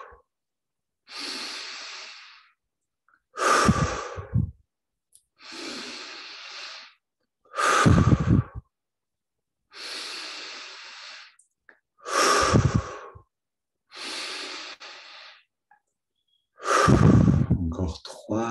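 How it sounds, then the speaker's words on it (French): Eight deep breaths during a guided meditation, alternating inhales and loud, breathy exhales through the mouth, evenly spaced with short silences between them, close and alone with no talking. "Prenez tout de suite de grandes respirations"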